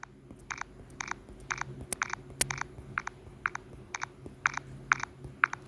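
Phone screen reader system sound repeating a quick ticking pattern, about a dozen short crisp ticks in a steady irregular rhythm, fairly faint over a low background hum.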